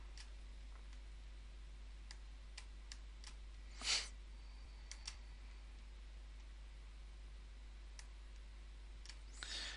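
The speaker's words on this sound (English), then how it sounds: "Click that again." A computer mouse clicks sparsely and quietly while someone works in SEO link-building software, with one louder click near the middle and no talking.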